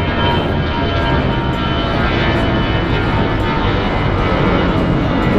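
A fixed-wing airplane roars near the airport on Roatán, Honduras, its engine noise loud, close and steady for the whole stretch, with no one speaking.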